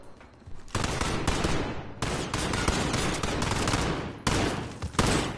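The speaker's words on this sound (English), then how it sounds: "Oh my god, getting shot at already." Bursts of rapid automatic gunfire in a Call of Duty Warzone match, loud and dense, arriving in three long volleys separated by brief gaps.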